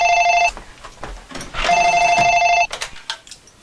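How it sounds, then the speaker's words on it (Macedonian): A telephone bell rings indoors in two loud, close electronic trilling bursts separated by a short gap, followed by a few faint clunks. "звони телефонот"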